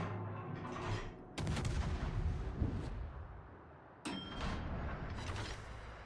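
Naval cannon fire from Dutch light cruiser guns in World of Warships, two dense bursts of booming salvos with rumbling tails, loud and close.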